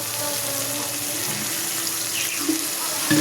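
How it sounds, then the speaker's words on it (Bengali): Water poured into spice masala frying in a pan makes a continuous close rushing hiss that holds for about three seconds, with a small clatter near the end. "একটু জল দিয়ে দেবো, কারণ মশলাটা একটু তাহলে ভাজাটা ভালো হবে"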